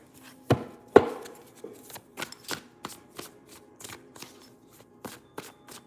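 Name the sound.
shuffling a deck of tarot cards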